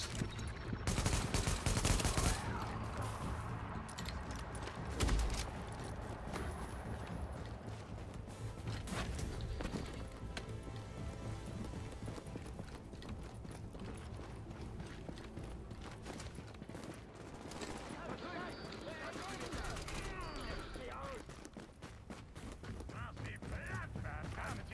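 Gunfire in Tom Clancy's The Division crackles in dense, repeated bursts throughout a long firefight, with a speaking voice mixed in.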